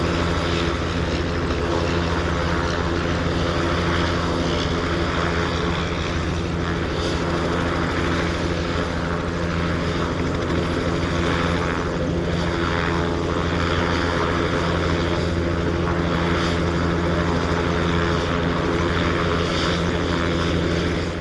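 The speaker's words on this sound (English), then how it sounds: "Meanwhile, in the Tummelisa, Mikael was able to show off his aerobatic prowess with a very spirited routine in this little biplane fighter trainer of the interwar period." Tummelisa, an interwar Swedish biplane fighter trainer, flying a spirited aerobatic display at an airshow; its propeller engine drones steadily and loudly throughout, with no talk.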